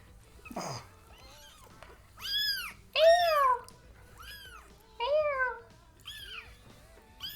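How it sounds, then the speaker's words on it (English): Several small kittens meow in a string of high, rising-falling cries, about six separate calls spaced a second or so apart, close and clear over a quiet indoor background. "these are the crazy little kittens"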